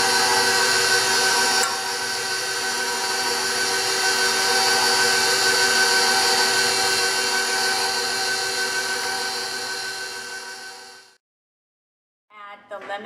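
Electric mixer beating cake batter with cake flour and baking powder on low speed, a steady buzzing whir held for about ten seconds before cutting off, followed by a brief clatter.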